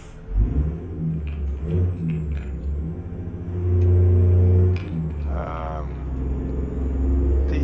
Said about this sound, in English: The ignition key, you know, goes to on, and then you start it, it goes all the way.